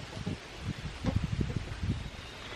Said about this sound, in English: fighting the wind today is kind of here and there